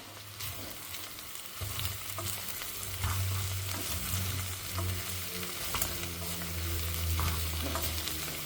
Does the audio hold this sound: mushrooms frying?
yes